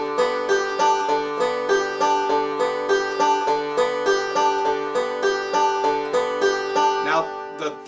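Banjo playing a standard bluegrass forward roll, thumb, index, thumb, middle, as a steady, bright, ringing stream of plucked notes, near and alone for the full stretch.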